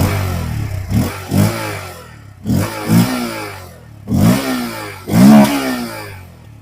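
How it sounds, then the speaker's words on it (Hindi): Bajaj Pulsar N160 motorcycle engine revved in four separate throttle blips, each rising sharply then dropping back to a rough, thumping idle, loud and close with no talking. "अब इसको थोड़ा रैव करते हैं।"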